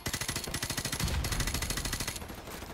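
A gun in Call of Duty Modern Warfare Remastered fires in rapid automatic bursts, a steady, evenly spaced rattle of close shots with a brief pause and heavier impacts midway.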